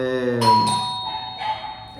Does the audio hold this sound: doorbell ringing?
yes